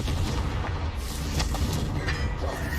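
A Confringo blasting curse in a Hogwarts-themed game goes off as a loud, booming explosion, its deep rumble filling the short stretch with a few sharper cracks on top.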